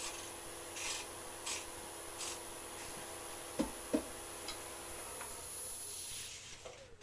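A skew chisel tip lightly brushes loose fibres off turned wood on a lathe: faint, soft rubbing with a couple of brief scrapes near the middle, set against a quiet workshop hiss.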